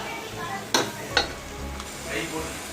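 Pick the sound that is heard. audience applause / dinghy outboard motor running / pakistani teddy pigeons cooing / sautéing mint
sautéing mint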